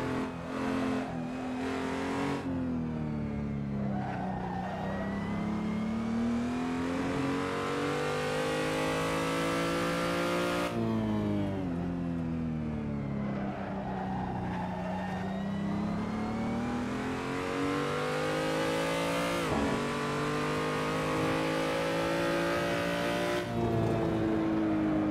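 A Porsche and a BMW M235i race on the Nürburgring, their engines howling loud and close as revs climb and drop through repeated gear changes, with a sustained full-throttle roar and no talk.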